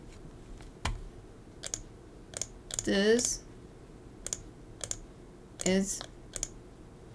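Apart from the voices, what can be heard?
typing on a keyboard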